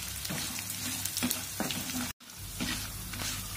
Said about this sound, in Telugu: మినప్పప్పు, శనగపప్పు, మినప్పప్పు, ఆవాలు వీటిని కూడా వేసుకొని మనం వేయించుకోవాలి.